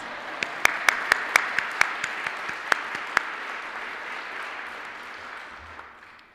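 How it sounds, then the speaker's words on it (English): An audience at a business awards ceremony applauds a winner's husband, with several sharp nearby claps standing out over a broad, sustained wash of crowd clapping that gradually tapers off. "He deserves a round of applause."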